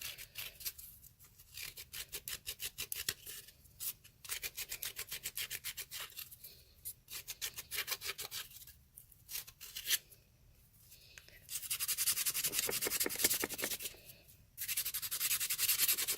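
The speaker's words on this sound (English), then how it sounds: "Now I'm going to use the nail file." A nail file scrapes the middle of a cardboard circle for a wreath ornament, a quiet, fast rhythmic rasping in bursts with short pauses, growing louder and brighter toward the end, with no voice.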